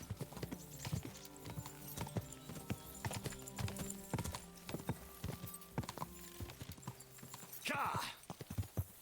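A horse in the medieval game Kingdom Come: Deliverance 2 clip-clops along at a quick, steady pace in close, rhythmic hoofbeats, with a brief neigh near the end and some speech over it.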